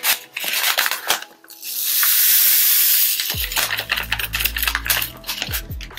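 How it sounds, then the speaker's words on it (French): Citric acid poured into a hot homemade dish soap mixture gives a loud hiss, a surging fizzy sizzle that swells and then settles into crackling bubbling, with clicks of a spoon against the container. "Je verse l'acide citrique."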